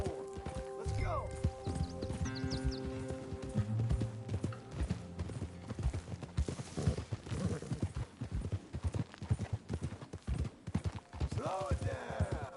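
Horse hooves clip-clopping at a steady riding pace in Red Dead Redemption 2, close and rhythmic, with a whinny early on, tack noises, and voices talking over the hoofbeats.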